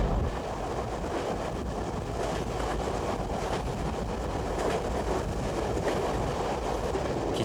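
A passenger train runs steadily on its rails while crossing the Yellow River in China's central plains, a continuous loud rumble with faint clickety-clack and no voices.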